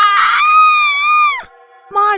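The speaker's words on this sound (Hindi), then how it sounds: "अचानक वो चीख पड़ती है" A witch shrieks in a long, high, sustained scream that wavers and then breaks off abruptly. A brief pause follows before a second shriek begins, loud and close.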